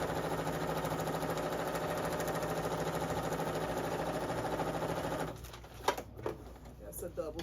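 A sewing machine stitches a double stitch on children's clothing, a steady continuous close whir that stops abruptly near the end, followed by a few handling clicks and knocks.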